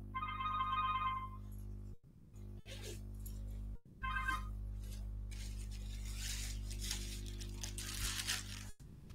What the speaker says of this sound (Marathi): फोन आला मला.